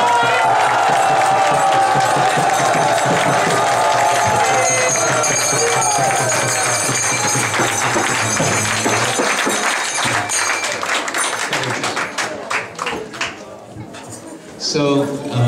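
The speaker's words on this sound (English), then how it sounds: "Please give now a full applause." A concert crowd applauds and cheers loudly after a bhajan band performance, sustained clapping with shouts that gradually thins out into scattered claps and voices.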